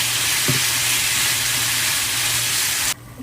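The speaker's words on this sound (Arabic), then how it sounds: "بعد ما استوى عندي الدجاج راح اضيف له فلفل اخضر وفلفل زينة، راح اتركه شوية يتحمر" Chicken pieces with green peppers and bell peppers sizzle steadily in a pan as they brown, a dense, even frying hiss with a brief stirring clatter early on, cutting off abruptly at the end.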